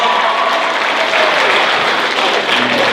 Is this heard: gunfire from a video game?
no